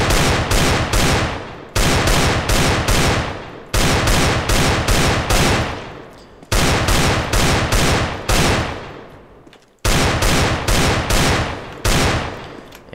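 Rapid bursts of Desert Eagle pistol and rifle fire from a Counter-Strike match, loud and close, coming in clustered volleys with brief pauses between them and no talking.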